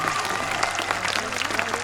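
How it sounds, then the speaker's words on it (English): A crowd applauds and cheers at a jousting tournament, a dense continuous wash of clapping and voices without pause from start to end. "That deserves your applause, ladies and gentlemen. Give them both a cheer."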